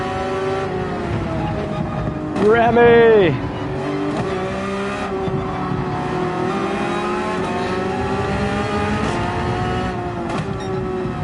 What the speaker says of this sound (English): The car is coming on the outside.